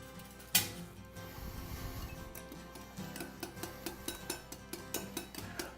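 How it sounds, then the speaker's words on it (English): A whisk ticks rhythmically against a bowl as oil is drizzled into vinegar for a tomato vinaigrette, with a sharp clink at the start followed by steady, quiet, evenly spaced taps. "drizzling oil into the vinegar while whisking"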